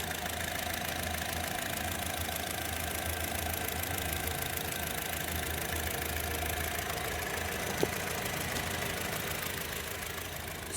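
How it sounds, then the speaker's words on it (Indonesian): A 2015 Honda Mobilio E CVT engine idles smoothly and evenly, a steady mid-pitched mechanical hum with a faint ticking texture, heard up close and alone for about ten seconds. "Suara mesin halus, normal ya, nggak ada kendala sama sekali."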